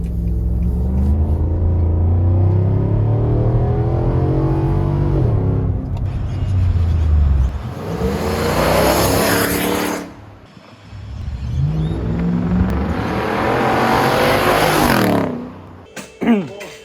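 A Nissan Patrol Y62 V8 revs hard twice through a bimodal cat-back exhaust with a deep, loud roar, each burst rising in pitch before cutting off, then a brief crackle at the end.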